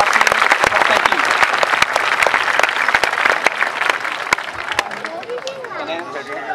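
Audience clapping before a Kecak dance performance at Uluwatu Temple in Bali, a dense burst of applause from a large crowd with a few sharp claps that thins out toward the end, with a voice faintly audible at the close.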